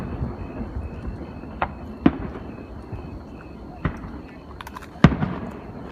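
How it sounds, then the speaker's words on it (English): Fireworks and firecrackers set off by neighbors on the Fourth of July, heard as a few scattered, fairly distant booms and sharp pops over a low rumbling background. "the neighbors are probably letting off a bunch of firecrackers."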